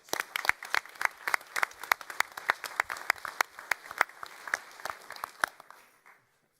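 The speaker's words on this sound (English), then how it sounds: "Let's give them one more round of applause." Audience at a school district board meeting gives a round of applause, a close, fairly sparse group clapping briskly for about six seconds before stopping abruptly.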